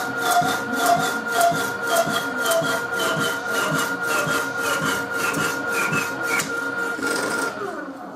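A saw works through a timber stop being cut to length in a workshop, giving a steady run of rhythmic rasping strokes up close, with faint speech underneath.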